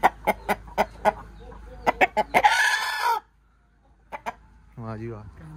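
A white Shamo rooster clucks in a series of sharp, loud calls, then lets out a long crow. After a short pause come two more clucks and a brief voice at the end.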